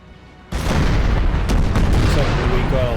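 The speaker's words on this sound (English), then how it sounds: "So we got a lot of artillery over here. 3 sets of cannons." Artillery cannons open fire in Napoleon: Total War: after a quiet moment, a sudden loud boom gives way to a dense rumbling roll of overlapping cannon shots and blasts that lasts to the end.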